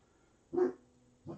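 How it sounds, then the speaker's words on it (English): A Dalmatian gives two short, fairly close barks about three-quarters of a second apart, with quiet between them. "my Dalmatian is barking again"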